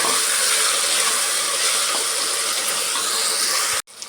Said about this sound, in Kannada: ಬದನೆಕಾಯಿನೂ ಒಂದು ಸಾರಿ ಆಯಿಲಲ್ಲಿ ಫ್ರೈ ಮಾಡ್ಕೊಂಡ್ಬಿಡ್ಬೇಕು